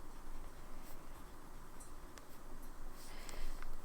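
Fountain pen with a medium-fine nib writing on paper, a soft continuous scratchy rasp close up, with faint tapping strokes and small pauses between letters.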